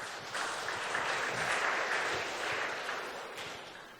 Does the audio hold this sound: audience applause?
yes